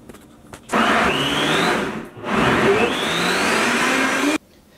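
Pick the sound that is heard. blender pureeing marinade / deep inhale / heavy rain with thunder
blender pureeing marinade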